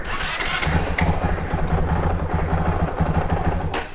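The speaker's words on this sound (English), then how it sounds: "I dislike, and that's the start when it's cold." A 2022 Honda CRF450RL motorcycle is started cold, its engine catching and running rough and uneven with clattery pulses, loud and close for several seconds.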